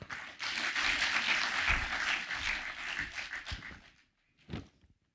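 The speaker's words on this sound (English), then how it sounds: "Let's give him another round of applause" An audience at a government meeting in Central Kenya claps for a speaker, a burst of applause lasting about four seconds that stops abruptly, followed by a lone thud.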